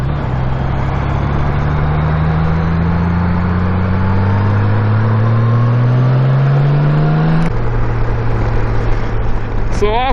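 A motorcycle accelerates along a road near an Air Force base. The engine note climbs steadily and loud and close, drops briefly at a gear change, then starts rising again over constant wind rush.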